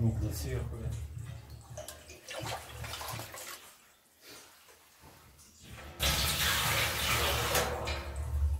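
Water splashing and running from a remote water tank in a sauna, sloshing and dripping close by, then turning into a louder steady rush near the end. People talk over it.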